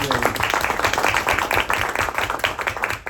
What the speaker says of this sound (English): Round of applause for that one